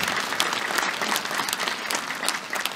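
Dense, steady applause from a concert audience for a singer performing with a mining company's brass orchestra, continuous and fairly close, with no talking over it.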